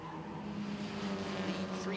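Mazda MX-5 race cars lapping Cadwell Park during a championship race, a steady engine drone held throughout under continuous commentary.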